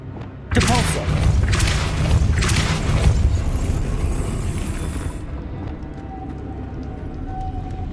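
A Depulso force spell blasts in the video game Hogwarts Legacy, starting with an abrupt loud boom and followed by several seconds of rushing, rumbling impact noise with repeated thuds before it fades to quieter ambience.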